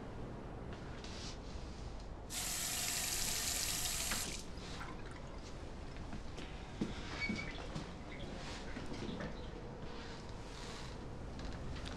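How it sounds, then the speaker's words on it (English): Water runs from a tap into a glass in a quiet room, a faint steady two-second pour followed by soft indoor sounds. "Would you like a glass of water?"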